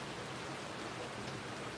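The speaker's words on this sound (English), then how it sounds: "It is raining." Steady rain falls outdoors as a dense, even hiss, moderately faint and unbroken, with no voices over it.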